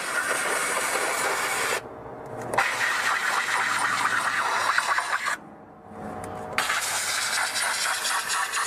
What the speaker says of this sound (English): Wrap the rag around this nozzle, blow it out so I can feel all the water coming up on the rag.